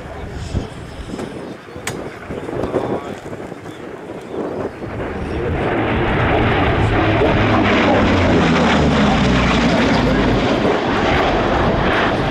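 A fast early propeller aeroplane at the Flying Legends airshow swells from a distant drone into a loud, sustained engine roar as it passes close, with a commentator talking over the first seconds.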